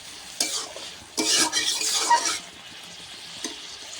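Onions and chillies fry in a pan, stirred in a few loud sizzling bursts that die back to a soft, steady hiss between strokes. No one talks.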